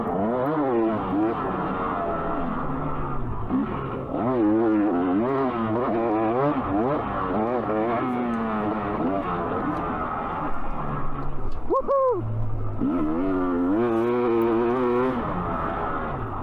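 A motocross bike on a slippery, storm-soaked track at High Desert MX revs up and down repeatedly with a wavering, close engine note that rises and falls throughout.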